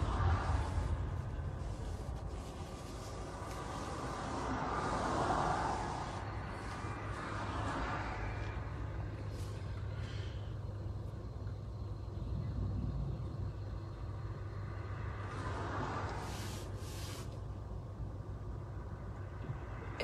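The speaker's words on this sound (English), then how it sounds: "Everywhere there is traffic here." Road traffic passing outside, a low continuous rumble of car engines with a couple of vehicles swelling closer and fading, heard from a stationary spot with people talking over it.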